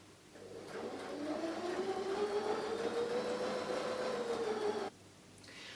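Sewing machine set to a stitch length of 3 stitching a reading cushion: a steady, close motor whir that rises slightly in pitch as it runs, then cuts off abruptly, leaving quiet room noise.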